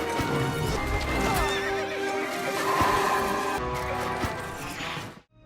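Flaming Inferno-faction horses in the Heroes 5 strategy game whinny and neigh over clip-clopping hooves, loud and continuous amid dense battle music and effects before cutting off abruptly at the end.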